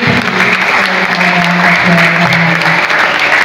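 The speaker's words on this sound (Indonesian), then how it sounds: "Sekali lagi kita beri aplaus untuk Ibu Tiwi" An audience at the opening of a solo art exhibition at Balai Budaya applauds Ibu Tiwi. The clapping is loud and dense, holds steady throughout, and has faint crowd murmur mixed in.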